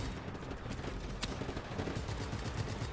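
Rapid gunfire in Just Cause 3, a dense, continuous rattle of shots with a louder crack partway through, sounding fairly close.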